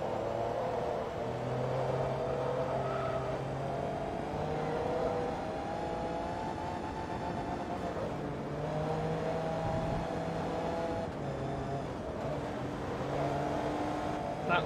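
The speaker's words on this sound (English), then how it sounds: "That's a Lamborghini Diablo." A Lamborghini Diablo SV engine in the racing game Forza Motorsport 2 hums and whirs steadily at a sustained drone, with shifting engine tones rising and falling throughout.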